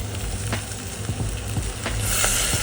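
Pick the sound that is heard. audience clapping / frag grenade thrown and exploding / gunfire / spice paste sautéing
spice paste sautéing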